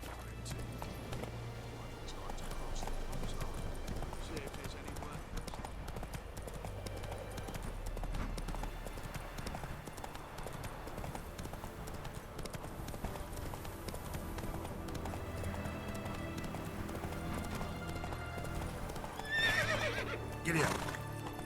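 A horse gallops with a steady run of hoofbeats and neighs in The Witcher 3, mixed with game music and ambience throughout, and a voice speaks near the end.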